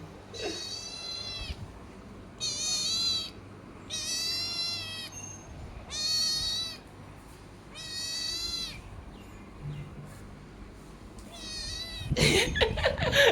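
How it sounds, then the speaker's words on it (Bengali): A cat meows six times, each drawn-out and clear, with short pauses between them in a quiet room. A sudden loud rustling burst comes at the end. "গাইস আর ছবি ওই দেখে আরো বলে মিয়াও মিয়াও"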